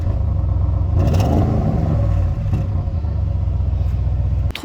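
A deep, loud Audi RS6 engine rumbles steadily close by, with a sharper rev building around the first second before settling back to a heavy, even idle.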